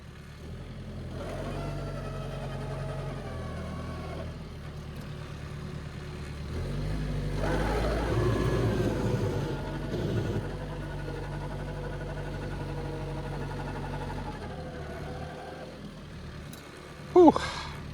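A heavy diesel engine of an LS MT242 tractor plowing snow rumbles steadily at close range, its low drone swelling louder midway through, then easing back, with a brief sharp clank near the end.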